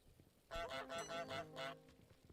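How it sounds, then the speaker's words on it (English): A cartoon goose in Untitled Goose Game honks about five times in quick succession, loud and close, as nasal, brassy calls with short gaps between them. "Just keep honking so he keeps trying to follow you."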